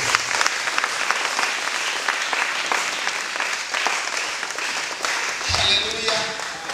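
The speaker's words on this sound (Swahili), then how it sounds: "Wote tumshangilie Bwana Yesu kwa makofi na vigelegele." A church congregation bursts into loud, sustained applause at a gospel service, dense rapid clapping filling the space, with voices and a sharper cry rising near the end that may be ululation.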